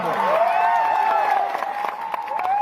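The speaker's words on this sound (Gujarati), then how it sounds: "હર હંમેશ સંઘર્ષશીલ એવા આનંદભાઈ પટેલ સાહેબ માટે જોરદાર તાળીઓ પાડ લઈએ" Crowd applause at an outdoor political rally in Netrang, Gujarat, a steady wash of clapping with some cheering held at a moderate distance for the full stretch, while a voice over a loudspeaker carries on above it.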